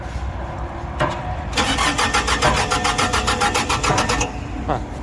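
A Mitsubishi MXR35 mini excavator's diesel engine cranks briefly, then catches and settles into a steady, rhythmic mid-pitched idle close by, with a short starter burst before firing.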